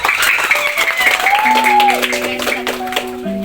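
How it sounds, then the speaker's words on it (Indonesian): A group of children claps hands at a classroom anti-corruption lesson, a dense, continuous patter of claps mixed with high voices calling out and chatter. "Kayak tepuk tangan dong"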